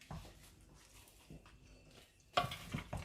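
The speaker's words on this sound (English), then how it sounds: "So we'll just give it a quick stir to make sure it's all well marinated." Beef bourguignon with carrots, onions, parsley and French alcohol, marinated for 24 hours, stirred in its container: soft scraping and clinking, quiet at first, then a louder burst of utensil-on-dish knocks near the end.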